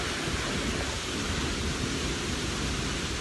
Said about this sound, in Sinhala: මාර වැස්සකට අහු වෙලා ඉන්නේ.